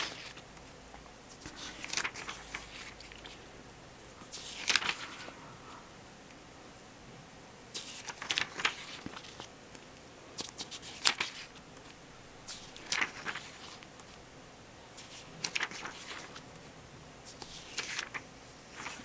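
Glossy pages of a cosmetics catalog flipped quickly by hand, giving repeated soft papery swishes and rustles at irregular intervals, close and fairly quiet, with no talking.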